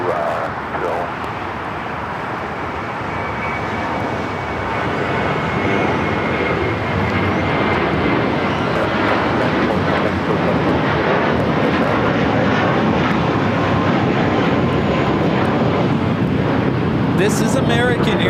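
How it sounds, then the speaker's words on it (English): An American Airlines A321 jet takes off from LAX, the engine roar starting strong and swelling louder toward the end as the aircraft powers down the runway. "This is American Airlines 1994 taking off to Phoenix on the A321"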